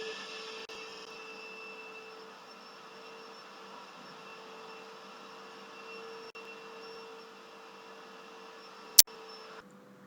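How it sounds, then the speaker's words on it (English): A vacuum cleaner drones steadily from another room for the whole stretch, a muffled, even hum with no breaks, interrupted once near the end by a single sharp click. "I had to make a little break because of the vacuum cleaning"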